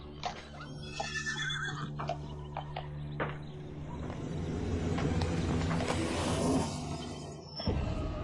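Horses whinnying during a tense outdoor handover, with shrill neighs early on and a rising mix of hooves and commotion that grows louder before a sharp clatter near the end.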